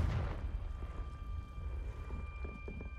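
A Confringo blasting spell explodes in Hogwarts Legacy, giving a loud low rumbling burst at the start that decays into a sustained boomy roar with faint game ambience and no talk.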